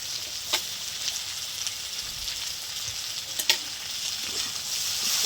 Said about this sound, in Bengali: তো পেঁয়াজ আলু ভালো করে নেড়ে নিচ্ছি।